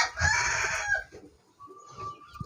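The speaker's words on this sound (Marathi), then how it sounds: "हे सध्या सगळ्या शेडमध्ये ना शंभर कोंबड्या आहेत आपल्या" A rooster crows loudly nearby while hens cluck around it in a busy poultry shed.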